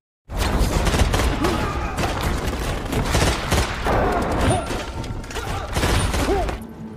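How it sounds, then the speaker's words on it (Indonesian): A loud, dense shootout of rapid gunfire with overlapping bursts and booming impacts, continuing almost without pause. "Kemudian aksi tembak-tembakan pun terjadi."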